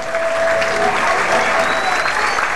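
Loud, sustained applause from a concert crowd at a 1999 show at Cemento, a dense, steady wash of clapping that fills the whole stretch.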